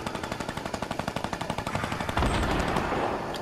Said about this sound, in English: I hear shots south.